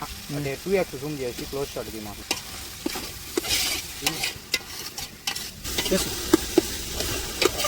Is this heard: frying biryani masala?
yes